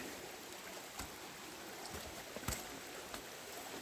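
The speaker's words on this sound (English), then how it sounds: "It's a creek." A small creek in Omahu Bush in the Port Hills flows with a faint, continuous wash of water, heard alone and from a short distance, with a few soft knocks.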